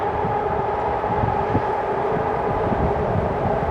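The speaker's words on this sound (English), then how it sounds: "Well, I just don't talk over it because you won't be able to hear." A train rumbles steadily past at close range, a continuous loud roar with rattling low-end clatter and no gaps across the whole stretch, on a street in Kensington.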